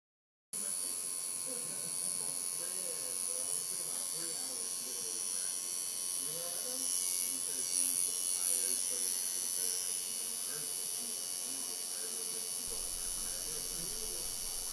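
A tattoo machine buzzes continuously with a thin, high electric whine, running steadily at moderate volume while a person talks over it.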